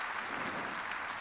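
Brief audience applause in a church during a sermon: a dense wash of clapping that swells quickly to a peak and then eases back, close and moderately loud, with no voices.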